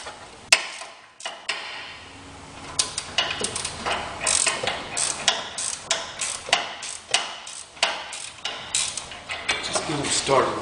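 Ratchet clicking as body bolts are started on a 1980 Corvette during a radiator core support change, quick runs of close, loud ratcheting ticks repeating in bursts with short pauses between strokes.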